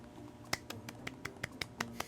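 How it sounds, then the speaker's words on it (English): Characters clapping in Final Fantasy XIV Dawntrail: about nine sharp, quiet claps in an uneven rhythm over roughly two seconds, set against a soft steady game background with no talking. "I love that we clap too now"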